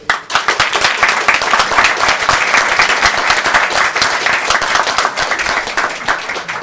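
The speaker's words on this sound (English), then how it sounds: "clap the loudest for the startup you like the most" An audience at a digital investment startup pitch event claps loudly for a favorite startup, brisk crisp handclaps from many people forming a dense, steady burst of applause throughout.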